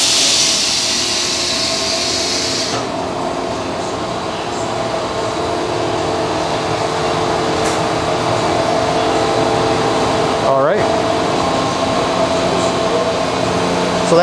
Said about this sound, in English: So that's how our cheese cutter works.